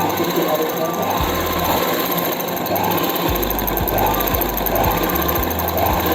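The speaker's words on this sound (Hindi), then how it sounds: "बिल्कुल किनारे की सिलाई लगानी है" A sewing machine stitches along the edge of a palazzo pant belt, a close, loud, steady mechanical hum with rhythmic needle knocks throughout, and no voice heard over it.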